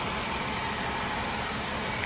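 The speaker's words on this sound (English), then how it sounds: "So just go ahead and let it run for about 10-15 minutes, just burping the system." A car engine idling steadily during a coolant flush while air is bled from the cooling system, giving a continuous, even hum close by with no voices.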